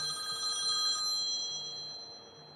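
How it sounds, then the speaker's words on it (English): A telephone rings during a live-streamed beer and video review show: a sustained electronic ringing tone with bright, steady pitches that holds for a couple of seconds and fades slightly toward the end. "Oh, we got a phone call."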